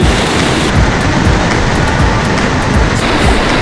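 Widgeon Creek Falls pours in a steady, loud broadband roar of rushing water, heard close up and alone without talk.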